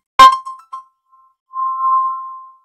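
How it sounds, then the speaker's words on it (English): A phone rings with an incoming call: a sharp ding followed by a couple of short chimes, then a longer sustained electronic ringing tone, clear and close in a quiet room. "You can see my phone is ringing. I'm getting a call."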